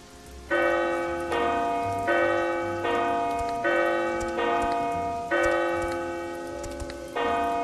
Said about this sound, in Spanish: Es la campana que avisa al hermano portero de que alguien está en la puerta.